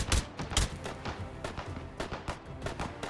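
Enemy automatic gunfire in the VR shooter Hot Dogs, Horseshoes & Hand Grenades, a rapid irregular string of close, sharp shots rattling continuously with no talk over it.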